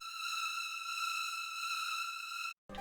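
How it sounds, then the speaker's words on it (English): A detuned sawtooth synth drone drenched in heavy reverb, layered into a redesigned particle-cannon weapon sound for the Overwatch hero Zarya; it holds a steady, bright harmonic tone for about two and a half seconds, then cuts off abruptly before a brief burst returns. "this drone, made from a detuned saw with lots of reverb, gives the sound more tonality"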